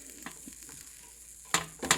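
Onions air frying in ghee and oil, a soft steady sizzle with faint stirring scrapes, then two louder clattering stirs near the end.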